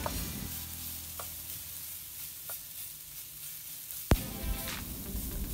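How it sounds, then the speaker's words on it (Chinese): Garlic and pork belly stir-fried in a pan give a soft steady sizzle, with a few light scrapes and one sharp utensil knock near the end, and no voices. "材料爆香后，我们才放入我们的五花肉，然后将它炒一炒，它炒均匀"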